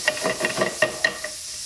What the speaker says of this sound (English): So by pan frying the bacon in advance, you can develop the smell